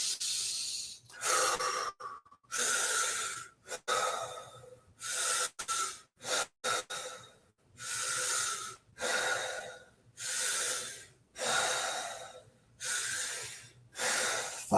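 Wim Hof style deep breathing, with about a dozen forceful rhythmic breaths, each a loud rushing inhale and exhale, evenly spaced and close up, with no talking.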